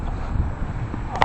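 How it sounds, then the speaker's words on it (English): Strong wind blows across an open field, a steady rushing buffet on the microphone through the whole short moment, with no talk. "Right now we got strong wind going this way"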